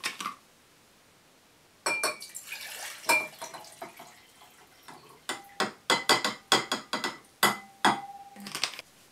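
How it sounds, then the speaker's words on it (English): A bottle of dichloromethane and water is poured into a glass beaker during a menthol extraction from mint leaves. Close, intermittent glugs, drips and light glassy clinks come in irregular bursts after a brief quiet start. "Next, the whole bottle is poured into a beaker."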